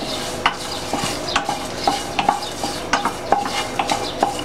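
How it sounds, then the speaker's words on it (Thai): Chilies and salt dry-roast in a pan, a spatula scraping and stirring in a quick, regular rhythm over a light crackle, loud and close with no voices. "คั่วพริกคั่วเกลือกันนะคะ"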